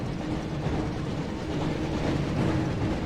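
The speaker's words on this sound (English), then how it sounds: "Looks like we found the train, Ron." The Hogwarts Express train rumbles past in the Harry Potter Chamber of Secrets PS1 game, a steady, dense wash of rolling rail noise with faint clickety-clack throughout, no talk.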